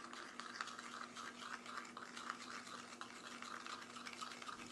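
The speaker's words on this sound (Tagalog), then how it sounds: "Haluin lang natin siyang mabuti mga lods" Chorizo meat being hand-mixed with curing salt gives a steady, close, wet squishing and scraping in quick, even strokes, with no talking.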